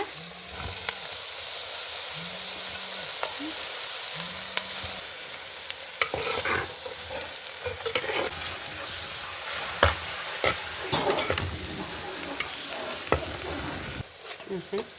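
A cinnamon stick and two cloves roast in a pan for a cabbage curry, giving a soft continuous sizzle with clinking stirring taps that grow busier over the second half.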